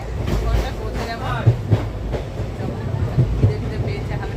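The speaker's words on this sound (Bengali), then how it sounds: "এই যে আমাদের ট্রেন ছেড়ে দিয়েছিল, ছেড়ে দিলে এই ট্রেনে আমরা আসলাম" A passenger train running on rails, a steady low rumble with rhythmic clickety-clack thumps of wheels over joints, heard from inside with voices talking nearby.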